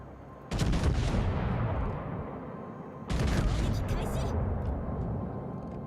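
Warship secondary guns in World of Warships fire in two heavy booming volleys, each followed by a long rumbling decay, while a voice talks in the background.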